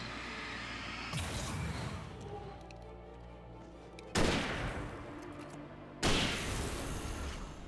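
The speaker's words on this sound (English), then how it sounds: "See how much damage the hunting rifle does." Three loud, sharp hunting rifle shots from the Alan Wake video game ring out at roughly two-second intervals, each followed by a decaying echo over a steady low ambient background.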